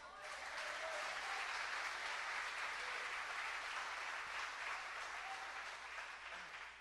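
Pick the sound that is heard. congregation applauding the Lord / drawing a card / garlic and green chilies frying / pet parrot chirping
congregation applauding the Lord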